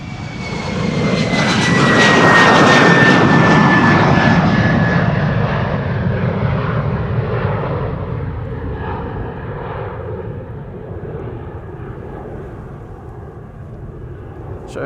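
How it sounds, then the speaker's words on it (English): A 21-year-old Embraer 170 long-range jet takes off from the Polderbaan runway at Schiphol in rain, its engine roar swelling to a loud peak with a falling whine, then receding into a distant rumble. "It's an Embraer 170 long range, no less."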